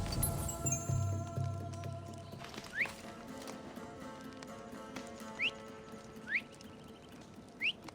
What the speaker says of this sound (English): That was definitely a whistle.